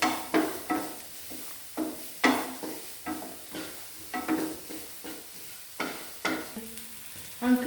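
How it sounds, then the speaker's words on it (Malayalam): Chopped onions fry in a pan and are stirred in a steady rhythm, each scrape of the spoon rising over a soft background sizzle, fairly quiet and close. "2 സവോള കട്ട് ചെയ്ത് വെച്ചത് ചേർത്ത് കൊടുക്കണം"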